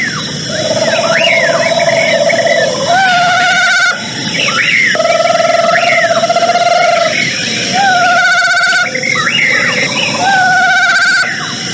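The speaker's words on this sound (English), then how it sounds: "That was the call of the great horned owl and the screech owl." Great horned owl and screech owl calls in a busy, loud chorus of whinnying, wavering whistles and trills that repeat in overlapping bursts.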